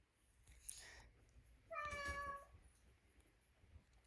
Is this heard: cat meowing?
yes